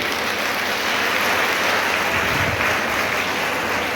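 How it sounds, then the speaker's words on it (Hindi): A large crowd claps for talented students at a student honors ceremony in Beri, a loud, dense, steady wash of applause that holds evenly throughout. "सबके लिए जोरदार तालियां चाहिए।"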